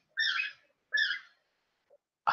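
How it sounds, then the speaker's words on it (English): Pet birds indoors let out two loud, harsh calls about a second apart, followed by a faint chirp and the start of another call, with no talk. "Sorry if you hear my birds in the background, they're loud."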